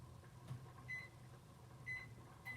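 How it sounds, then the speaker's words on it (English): A microwave oven heating a dish runs with a low, faint, steady hum, with a few brief high tones recurring at intervals and no voices. "I've got a little dish in the microwave. I'm just going to heat it up"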